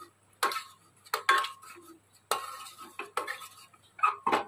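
Baby khichuri being pressed and mashed into a fine paste in a bowl, giving a run of soft scraping, squelching and clinking utensil strokes in irregular bursts, close up with no talk.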